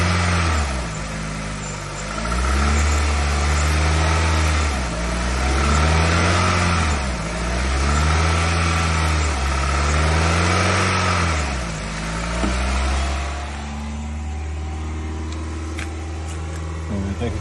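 A 2020 Nissan Rogue engine is revved and held around 2,500 RPM during a battery check, making a steady mid-pitched hum that swells and eases in slow repeated waves, with someone talking over parts of it.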